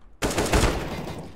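Gunfire from the video game CS:GO breaks out suddenly after a brief quiet, a rapid burst of loud close shots running together, then a fresh shot at the very end.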